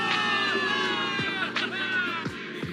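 A game crowd of soldiers in Zenless Zone Zero roars and whoops in celebration of a victory, a dense, sustained mass of cheering voices with rising shouts and a few sharp individual yells.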